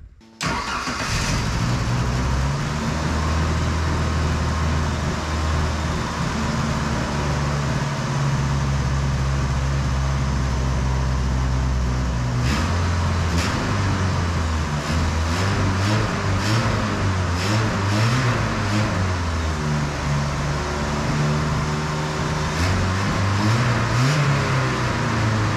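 A car engine, a 2.3 EFI swapped into a Ford Pinto Cruising Wagon, runs steadily and loudly in reverse throughout, its revs rising and falling in several surges, with no voices.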